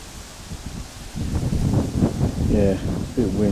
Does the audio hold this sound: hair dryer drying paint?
no